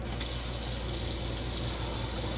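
Water switched on inside a camper van rushes from the tap in a steady, close hiss with a low hum beneath it, starting abruptly and continuing evenly throughout.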